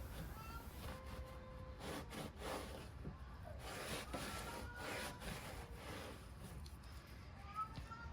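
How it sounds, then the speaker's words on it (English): A cloth rubs Demon Shine cleaner over the dirty bodywork of a Tesla Model 3 while fitting mud flaps, giving steady close swishing strokes in repeated bursts throughout. "a bit of the Demon Shine and then just rub around the surface"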